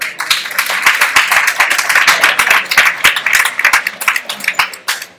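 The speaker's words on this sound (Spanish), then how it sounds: "Un aplauso." Applause at a powerlifting championship in Humanes de Madrid, a loud crowd clapping steadily for several seconds, dense and close, gradually thinning toward the end.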